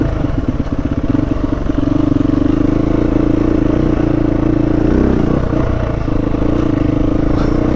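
Motorcycle ridden along a northern Minnesota trail during a TransAmerica Trail pre-trip: a loud, close, continuous engine drone with rattling and clatter, holding fairly steady throughout with no talking.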